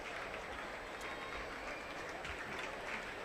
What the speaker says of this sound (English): A few rounds of applause